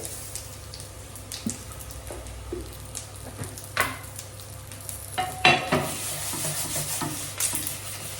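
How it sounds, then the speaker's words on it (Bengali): Whole cumin seeds sizzle steadily in hot oil, tempering a Bengali vegetable curry of potato and eggplant, with a continuous frying hiss punctuated by stirring scrapes and clinks. "তরকারি রান্নার জন্য সম্বরে দিয়ে দেবো গোটা জিরে"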